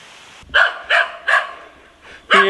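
A dog barks five times in quick, uneven succession, sharp and fairly close, with short gaps between barks and one softer bark near the end, outdoors on a hillside trail in Taiwan.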